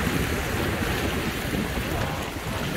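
Sea waves washing up on a warm beach at Cuastecomates, Jalisco, Mexico, a continuous broad wash of surf with wind buffeting the microphone, steady and close.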